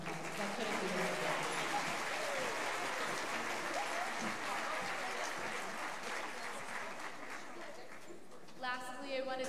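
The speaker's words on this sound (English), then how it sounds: "Let's give her a round of applause." An audience at a middle school holiday choral concert applauds a piano player, with steady, full clapping that holds for most of the stretch before thinning out as a voice begins at the close.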